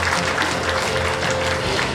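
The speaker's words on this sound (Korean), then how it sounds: "큰 박수로 환영해 주십시오." Audience applause welcoming a guest at the opening of a Daegu education superintendent candidate's campaign office, a steady, dense wash of clapping that fills the whole moment without pause.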